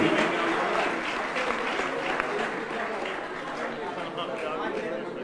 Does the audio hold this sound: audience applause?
yes